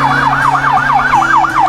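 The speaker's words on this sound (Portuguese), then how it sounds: "A sirene dos bombeiros e da polícia militar que fazia escolta" Fire brigade and military police sirens on an escort at a firefighter's funeral procession, a loud, close wailing siren sweeping rapidly up and down in a steady cycle over a low engine hum, no voices.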